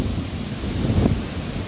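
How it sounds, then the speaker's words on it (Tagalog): Strong sea waves churned up by an approaching typhoon, a steady rushing surf with gusty wind buffeting the microphone and a brief swelling crash midway, no voices. "ang lalakas ng alon kasi nga malakas yung bagyo"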